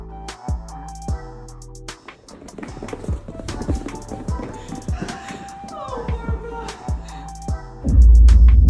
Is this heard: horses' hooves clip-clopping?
yes